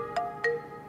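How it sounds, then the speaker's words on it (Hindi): Two short electronic tones from a mobile phone ringtone sound in quick succession, faint and set against a quiet indoor background. "किसका फोन आ रहा है?"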